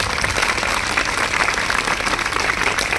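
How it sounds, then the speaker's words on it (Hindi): Loud, dense applause from a crowd at a school honours ceremony, clapping in tribute to teachers; steady and continuous across the short span with no talking. "एक बार अपने गुरुओं के लिए जोरदार तालियां।"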